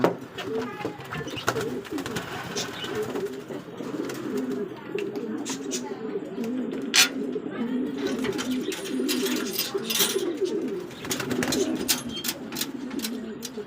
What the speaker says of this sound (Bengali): পঞ্চাশ পিসের মতো কবুতর আছে